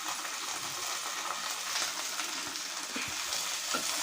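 Cut potatoes frying in oil with curry leaves, giving a steady, fairly quiet crackling sizzle with faint stirring clicks, heard close and without any talking.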